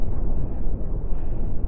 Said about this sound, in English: cannons are firing